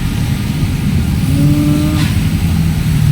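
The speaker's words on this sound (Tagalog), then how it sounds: "O yun, yung truck na yun, malaki." A large truck passes along a rainy road, its engine rumbling steadily as it goes by at moderate distance, with a brief rising tone partway through and no voices.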